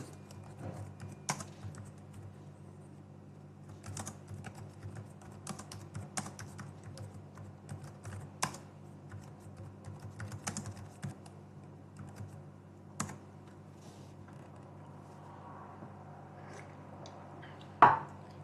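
Light, irregular tapping on a computer keyboard, bursts of quiet key presses with pauses between them, close and alone in a quiet room, one sharper click near the end.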